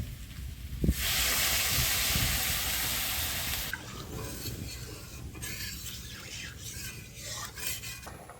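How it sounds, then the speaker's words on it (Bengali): Curry gravy bubbling in a pot for a Bengali chickpea-lentil dalna, a loud steady hiss of boiling liquid at first, then softer uneven bubbling and stirring noises through the rest, with no talk. "তরকারির ঝোলটা আমার ফুটে গেছে"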